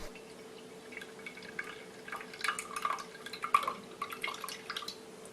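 Water is gently poured off grated potato starch in a kitchen, a faint trickling and dripping with soft splashes over a steady low hum.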